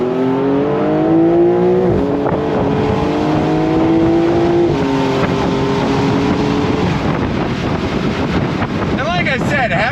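A Porsche 992.1 911 Carrera S with the top down accelerates hard, its engine note climbing through gears with brief shifts, loud and close under heavy wind rush and road roar.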